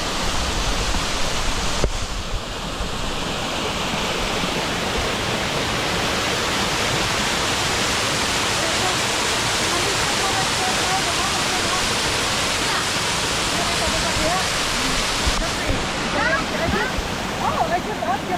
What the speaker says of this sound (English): I guess this is the Dangayon Falls.